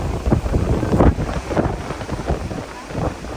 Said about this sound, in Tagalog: Ang lakas ng hangin. Malakas yung hangin.